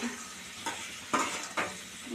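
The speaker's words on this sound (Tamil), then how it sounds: "இப்போ இதை வந்து நல்லா வதக்கிடுங்க" Masala for an eggplant dish sizzles steadily in a hot pan while a spoon stirs and scrapes through it a few times.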